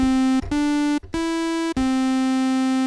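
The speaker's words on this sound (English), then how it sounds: "Square, saw and sine all simultaneously." An Arturia CS-80V software synthesizer plays square, saw and sine oscillators together, a loud sustained buzzy tone with rich harmonics, broken by short gaps where the note is retriggered.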